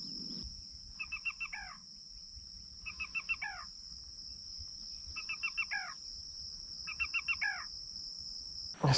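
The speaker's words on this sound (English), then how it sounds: "these blackbirds don't make it easy. They're always checking out the call and calling in my face." Blackbirds calling in open grassland in central Florida during a bird survey, the same short patterned call repeated four times at even intervals over a constant high insect drone.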